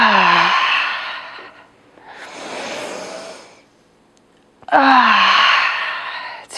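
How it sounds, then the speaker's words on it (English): Loud, expressive breaths during a morning yoga session: a long voiced exhale like a sigh, a breathy inhale, a pause, then another sighing exhale, all close and strong. "I invite some loud, expressive breaths here, like your big good morning kind of breaths"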